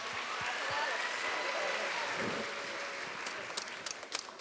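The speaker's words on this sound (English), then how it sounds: "Can we give Mo a round of applause" An audience applauding at an evening community event, a soft, distant wash of clapping that swells and then thins out, with a few isolated claps and some voices at the end.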